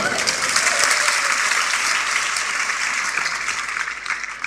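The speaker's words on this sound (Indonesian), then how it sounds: "Tepuk tangan dulu deh." Sustained applause from an audience at a pastor's sermon about finding a life partner, a dense even wash of clapping that holds steady and fades slightly toward the end, with no voices over it.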